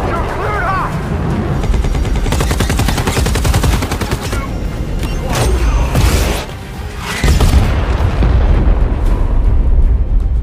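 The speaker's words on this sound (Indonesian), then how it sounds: "hingga sebuah ledakan besar terjadi" A fighter jet's missile strike in a film brings loud booming explosions and rattling gunfire in heavy bursts, with a narrating voice running over the chaotic, close din.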